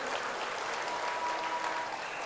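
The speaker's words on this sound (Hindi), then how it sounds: "आपण माने समस्त करताली देकी तांकु धन्यवाद" An audience claps at a foundation-stone ceremony for the redevelopment of Bhubaneswar Railway Station, a sustained, even patter of many hands at moderate level, with no voices on top.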